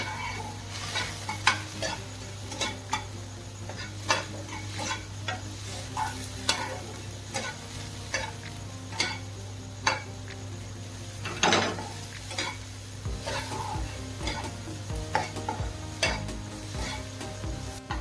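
Tomatoes with salt fry in a pan, a steady close sizzle running throughout, broken by regular clinks and scrapes of a spoon stirring against the metal.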